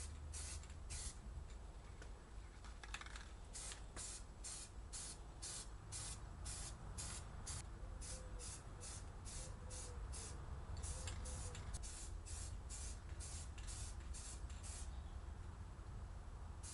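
Spray paint hissing from an aerosol can onto wheel spokes in light coats, a run of short, evenly spaced bursts, close and fairly loud over a constant background hiss.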